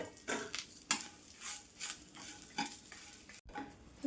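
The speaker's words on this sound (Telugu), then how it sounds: "ఇదంతా బాగా కలిసేంత వరకు ఇలా కలుపుకొని" Ivy gourd and okra fry being stirred in a pan with garlic and coconut powder, giving irregular scraping and clinking strokes of a spoon over a soft sizzle, close and moderately loud with no talk.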